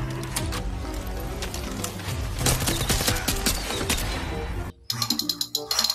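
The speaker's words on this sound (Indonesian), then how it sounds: "Ternyata yang ini adalah mainan tembak-tembakan." Rapid electronic gunfire from a toy M4 rifle, a dense rattling burst that runs several seconds, cuts out briefly, then resumes in sharp clicking shots.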